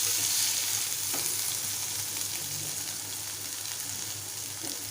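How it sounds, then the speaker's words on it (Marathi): Sprouted moong curry cooks in a pan over a low gas flame, giving off a soft, steady sizzle with a few faint bubbling pops. "स्लो गॅसवरती आपल्याला मुगाची भाजी शिजवून घ्यायची आहे."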